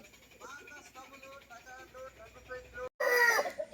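A parrot-beak long-tail breed rooster calls at a Nellore farm, with brief clucking notes under nearby talk, then a loud burst of crowing near the end.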